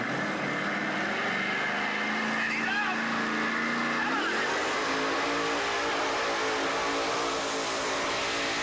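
Tractor-pull truck with a brand new motor roaring at full power, a loud sustained engine drone that climbs in pitch midway and holds there, close and continuous under an announcer's voice.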